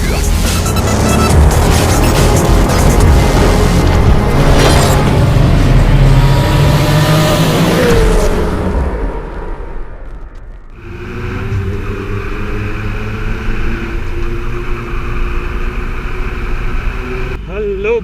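A Kawasaki Z800 motorcycle engine roars nearby with rising revs, gear changes and wind noise as the rider moves off, then settles to a lower steady drone; a voice speaks over it at times.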